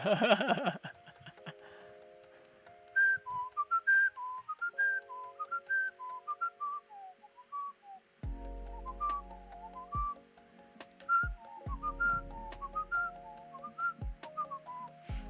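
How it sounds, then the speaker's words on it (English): Person whistling a melodic tune indoors during a game development session, a series of clear short pitched notes rising and falling, close and solo, with occasional low thumps joining partway through. "Every time I whistle, you hear the first note."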